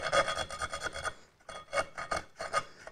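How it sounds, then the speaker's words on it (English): A metal file rasps back and forth in a hole in a motorcycle tail tidy clamped in a vise, for a 2019 Triumph Speed Twin, giving quick rhythmic scraping strokes close up, with a short pause before the strokes resume. "I'm just going to file that hole very slightly bigger"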